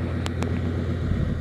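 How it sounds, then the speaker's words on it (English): A 1995 Chevy 1500 truck engine idles with a steady low rumble throughout, close and constant, with two brief clicks near the start. "You can definitely hear it cranking out. Real, real good engine on this vehicle"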